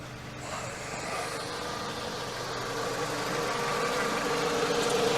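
A Dodge Avenger 2.4L engine idles steadily nearby during a cooling system fill and purge, a low rumbling hum that grows slightly louder over a few seconds with no talking.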